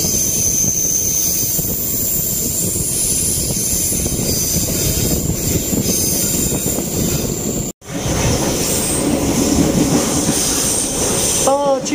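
A local passenger train on the Cibatuan line, running at night between Plered and Cimahi after leaving Sasaksaat station, gives a steady, loud rail rumble with a brief dropout and a wheel squeal near the end.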